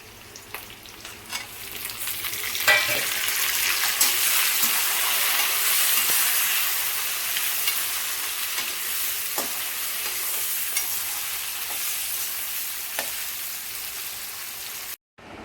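Cashews and tomatoes fry in a pan at home, a loud, steady hiss that swells after an initial clatter, with occasional stirring taps, then stops abruptly; no voices.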